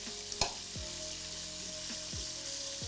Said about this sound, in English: this is one fast way to spice up the chicken while it's frying